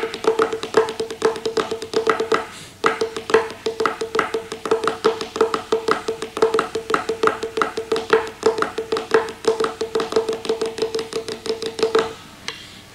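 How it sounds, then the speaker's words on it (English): Improvised snare drum flam patterns mixed with other strokes, a dense run of sharp, close grace-note double hits in fairly steady rhythm, played alone for about twelve seconds with a brief pause early on and no talking. "Let me show you some flam patterns, just improvised, mixed in with some other things, just to show you how cool they sound."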